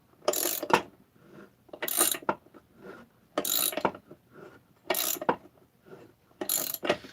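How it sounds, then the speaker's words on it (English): A ratchet wrench tightens a bolt on a Husqvarna 288 chainsaw crankcase, making five crisp, close clicking bursts at an even rhythm with short quiet gaps between them. "My right hand is using a ratchet."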